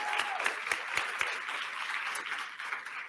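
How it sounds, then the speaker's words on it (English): Audience applause at the close of a corporate panel on CSR, DEI and ERG strategies, a steady wash of many hands clapping with a few sharper claps standing out early, moderately loud throughout. "So one more round of applause."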